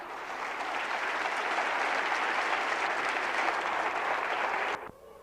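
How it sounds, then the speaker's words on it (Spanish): Loud, sustained applause from a large church congregation, steady clapping throughout that cuts off abruptly near the end. "Bien fuerte ese aplauso."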